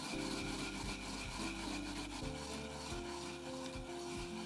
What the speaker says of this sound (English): I grate the radish with chili. I grate it gently.